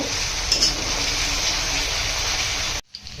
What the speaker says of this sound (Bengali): এক থেকে দেড় মিনিট আদা রসুন কাঁচা লঙ্কাটিকে ভালো করে ভেজে নিয়ে